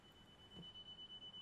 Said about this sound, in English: It's going to keep beeping at me